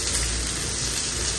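Potatoes fry in a pan with turmeric, salt and a little red chilli, giving a steady, close sizzle that holds evenly throughout with no pauses.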